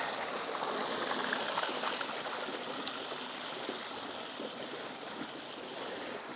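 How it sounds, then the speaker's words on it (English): Water from a micro hydro system pours onto a rock and runs on into a creek, a steady close rushing and splashing that holds even throughout with no voices. "I'll just let this water fall into the top as it is, and that'll hit the rock and just go on into the creek"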